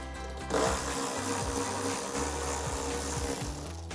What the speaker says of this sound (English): Next we can remove our last bolt. So once again with the 10mm socket.